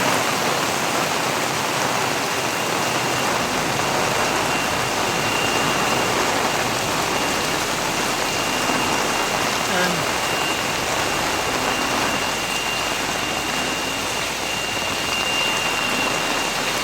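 Relentless downpour during Typhoon Kristine in Camarines Norte, a thick, even wash of rain striking surfaces close at hand, steady and loud from start to finish.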